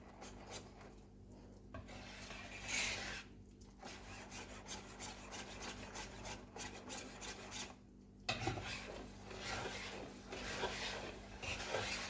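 Jamaican dasheen pudding batter with raisins stirred in a bowl, giving a steady wet scraping and rubbing sound with soft rhythmic strokes throughout, close and fairly quiet, with no talking.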